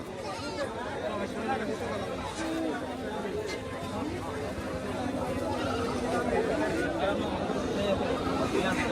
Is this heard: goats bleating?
yes